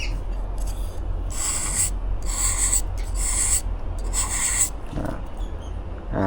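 A hardened piece is scraped off by hand in repeated rough, rasping strokes, some short and some longer. The strokes sit over a steady low hum, with no talk.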